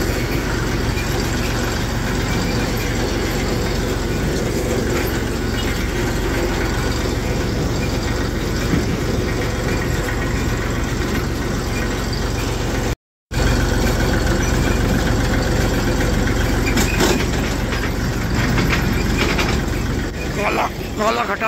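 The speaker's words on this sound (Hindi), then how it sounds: "NB या NA टॉप गियर में 1000 चक्करों पे चल रहा जी।" A tractor engine runs in top gear at around 1000 rpm on a road during sugarcane season, a steady, loud low rumble throughout with a brief dropout midway, with someone talking over it.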